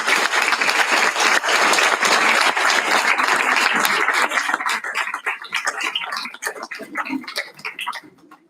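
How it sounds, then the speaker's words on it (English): An audience at IISER Tirupati's 4th Foundation Day celebration claps for award recipients, loud dense applause for about four seconds that thins into scattered individual claps and fades out. "So can everyone just clap once for all of them?"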